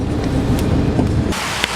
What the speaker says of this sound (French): Mais là il pleut, il fait mauvais, il y a du brouillard.